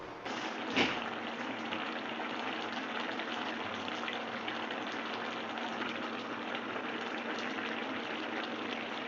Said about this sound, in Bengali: পাঁচ থেকে দশ মিনিট ঝোলটাকে ঢাকনা খোলা অবস্থাতেই এইভাবে ফুটিয়ে নেব আমরা লো টু মিডিয়াম ফ্লেমে